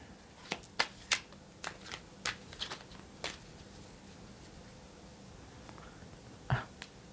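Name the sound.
shuffling a deck of tarot cards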